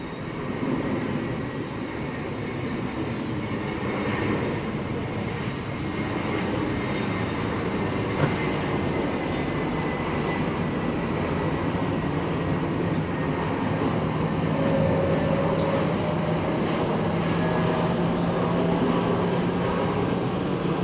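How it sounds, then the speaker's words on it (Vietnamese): A Vietjet Airbus A321 arrives at Tan Son Nhat airport in Saigon, a loud sustained roar of jet engines and rushing air that swells slightly through the landing, heard alone without voices. "chiếc máy bay đang về đến sân bay Tân Sơn Nhất."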